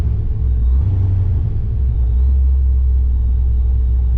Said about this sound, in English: if I let out, it idles fine, and it just acts weird. It cuts in and out.